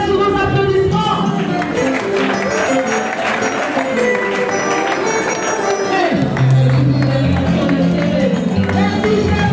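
Sustained applause from a seated audience at a trade union meeting in Kwango, steady and moderately loud for several seconds, with a faint ringing tone running beneath the clapping.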